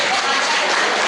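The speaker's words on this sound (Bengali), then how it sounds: "এইটুকু হাততালি তো হবে" A short burst of dense applause from an audience at a Rabindra Jayanti cultural celebration, steady and fairly loud throughout with no break.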